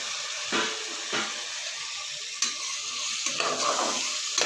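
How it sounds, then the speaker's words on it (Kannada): Chopped tomatoes with ginger-garlic paste frying in a pan for egg biryani, sizzling hiss broken by several bursts of spoon stirring and scraping, close and fairly loud. "ಅದನ್ನು ಈ ಥರ ನೀಟಾಗಿ ಮಿಕ್ಸ್ ಮಾಡಿ ಫ್ರೈ ಮಾಡ್ಕೋಬೇಕು"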